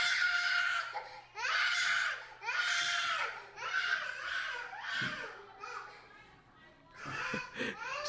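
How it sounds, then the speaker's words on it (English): A young girl screams and bawls through a temper tantrum, repeated loud wailing cries in bursts separated by brief gasps and sobs, close by and dominating the scene. "she's just screaming for no reason, bawling at her eyes out"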